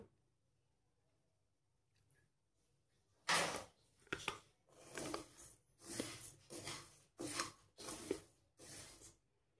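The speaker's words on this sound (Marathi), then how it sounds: "असे दाताखाली वाजतायत तांदूळ।" Roasted rice grains crunching between teeth, a run of about seven loud, close crunchy bites in an irregular rhythm after a quiet start, no talk.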